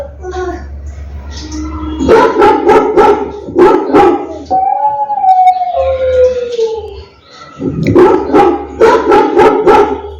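Recorded dog barks play from an Alexa smart speaker in a home, loud repeated bursts of barking in several clusters with howl-like tones between them, alongside a low hum.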